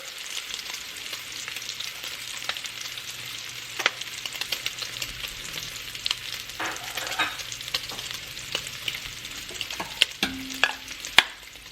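Bacon sizzles steadily in a pan, a continuous crackling fry broken by occasional scrapes and light knocks of stirring, with a faint low hum beneath and no voices.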